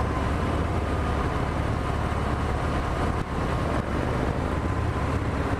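A 2018 Harley-Davidson Fat Bob motorcycle riding on a back road, a continuous dense engine and road roar with heavy wind rush, loud and steady throughout with only a brief dip midway.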